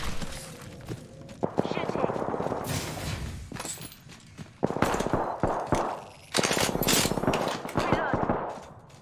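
Rapid bursts of automatic gunfire crackle in a video game shootout, with dense volleys separated by short pauses and some sharper single shots, while a voice talks over the fighting.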